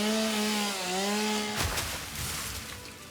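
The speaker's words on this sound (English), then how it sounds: "So that is the chainsaw." A chainsaw in the video game Satisfactory cuts down trees, its steady buzzing whine running loud and close for the first half before giving way to crackling, rustling debris as wood falls.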